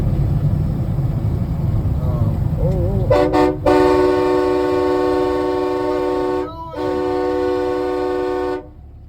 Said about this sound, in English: it does have a train horn though